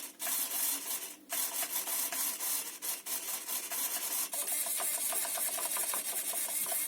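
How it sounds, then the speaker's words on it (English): An RC car's steering servo and throttle servo moving on a Savage X 4.6 nitro truck, a steady buzzing whir with brief whining pulses and small clicks, close and continuous. "There's the steering servo and throttle."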